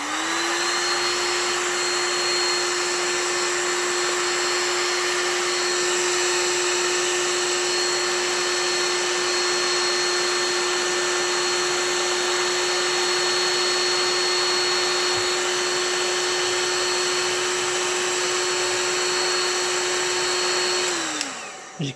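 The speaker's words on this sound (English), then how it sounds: "So I'm just going to get some heat into the paint and then I'll just scrape it off with a scraper." A heat gun blows steadily and loudly on the paint of an Ernie Ball Music Man MM1 guitar body, a constant whirring hiss with a high whine that runs unbroken for about twenty seconds before switching off at the end.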